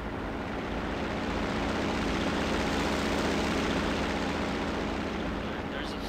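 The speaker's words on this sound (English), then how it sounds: "There's a fucking plane interrupting me." A fixed-wing airplane passing overhead outdoors near a garage, a loud, continuous broadband engine roar with a low rumble that holds steady throughout.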